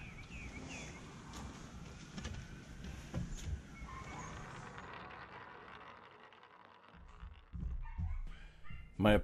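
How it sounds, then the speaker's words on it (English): Several dogs yap and whimper somewhere in the background, a steady muffled clamour of small barks that drops away briefly before rising again near the end. Seven puppies are kept in a basement room. "My apologies for the dogs yapping in the background."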